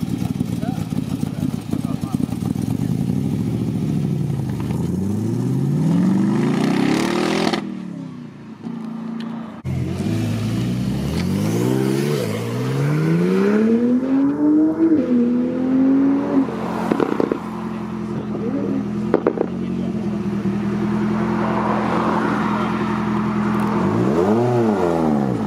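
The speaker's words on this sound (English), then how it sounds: "We have a Cobra kit car leaving." A Cobra kit car revs hard and pulls away at a supercar event, engine note rising and falling through repeated throttle blips and gear changes, loud and close with people talking around it.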